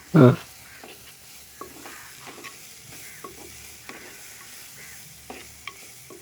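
Pan sauté before tomato goes in, a soft steady sizzle with faint scattered scraping of stirring. It opens with a brief loud knock and stays quiet and close after that.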